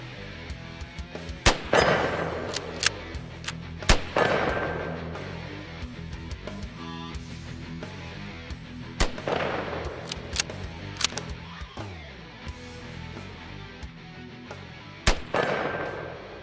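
Mosin Nagant rifle with a 4-power scope fired outdoors while plinking at targets about 100 meters out, a series of loud sharp shots with ringing decay, spaced irregularly, some followed by faint metallic target hits.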